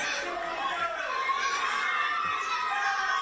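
Children in a wrestling show crowd shout and cheer from around a ring with parquet flooring, a steady, high-pitched roar of many young voices filling the hall without a break.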